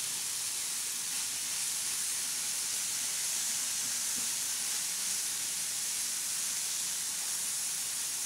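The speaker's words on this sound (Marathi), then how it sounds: "अशी छान अशी परतून घ्यायची" Vegetables stir-frying in a pan make a soft, continuous sizzling hiss that stays level and unbroken for several seconds, fairly faint and with no one talking.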